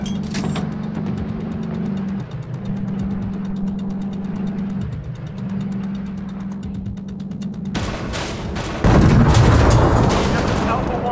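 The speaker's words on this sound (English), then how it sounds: "Enemy airstrike fast approaching." In World War 3, with a T-72 tank in Warsaw, a steady engine drone hums under rattling noise before a sudden heavy burst of explosive roar strikes near the end, loud and close.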